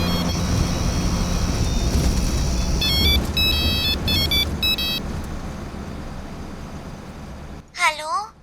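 A phone rings in short repeated electronic bursts over background music and noise, followed by a brief warbling tone near the end.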